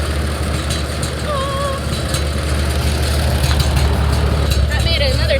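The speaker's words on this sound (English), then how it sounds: "The tractor got left on," An old Minneapolis Moline farm tractor runs close by during hay silage work, its engine holding a steady, loud, low rumble throughout.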